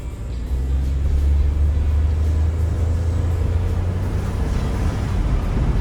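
A Ford F150 EcoBoost engine idles steadily after a spark plug replacement, giving a loud, constant low rumble close to the microphone with no speech.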